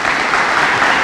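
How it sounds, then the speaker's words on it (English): A brief, dense burst of audience applause for elected officials at a records storage facility opening event, loud and continuous clapping with no talk. "Can we give our elected officials a round of applause?"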